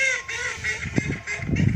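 Geese honk by a river at Thurne Mouth on the Norfolk Broads in winter, a few harsh nasal calls at moderate distance over outdoor background noise, with no one talking.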